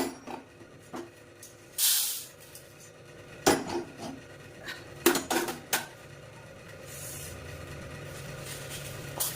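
Roasted ingredients for idli podi are tipped from a pan into a dish, bringing a few sharp metallic clatters and scrapes with brief rattling pours between quieter gaps, close by, no talking.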